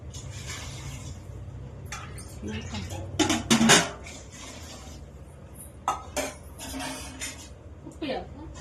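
Pots and metal utensils clink and clatter while bagara rice with basmati and chicken is cooked, with sharp scattered knocks over a steady background hum and a voice talking throughout.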